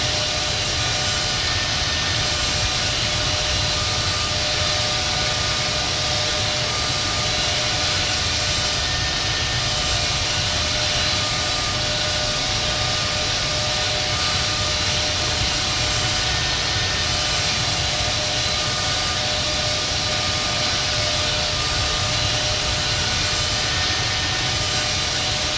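A Boeing 777-200 taxiing in the Infinite Flight game, its jet engines producing a steady, continuous whine and rumble that holds level throughout with no talking.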